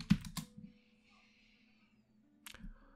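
Quick bursts of typing on a computer keyboard, a few rapid clicks at the start, a pause with faint background hum, then another short cluster of keystrokes, close and clear with no talking.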